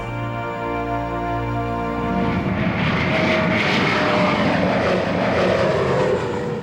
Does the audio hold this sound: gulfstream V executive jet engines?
yes